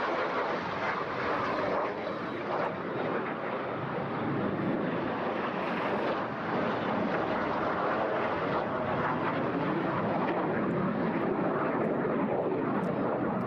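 Aerobatic aircraft flying loops and a half Cuban eight at the Eastbourne International Airshow, its steady broad engine roar sustained throughout, blended with wind and distant seaside surf.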